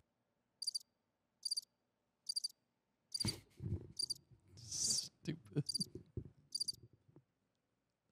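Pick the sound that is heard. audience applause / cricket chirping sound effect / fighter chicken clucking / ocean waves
cricket chirping sound effect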